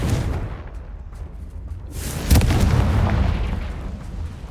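A Confringo fire spell from Hogwarts Legacy bursts in a sudden booming explosion midway through, with a rumbling tail over a steady low background.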